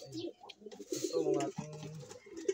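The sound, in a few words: pigeons cooing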